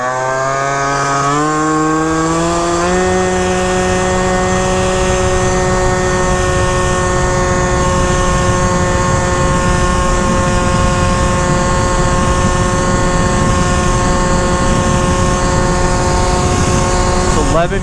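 A Yamaha Zuma/Phantom F12 scooter with a Stage6 MK2 cylinder and C16 pipe revs loudly up in the first seconds, then holds a high, steady buzzing drone close by for the rest of the stretch.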